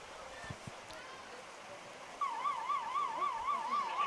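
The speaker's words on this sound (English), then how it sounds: "You'll hear a siren on the stream" A wavering electronic siren starts abruptly partway through and keeps rising and falling steadily over crowd and arena background noise at a live FC Tucson soccer match broadcast, with commentary in the room.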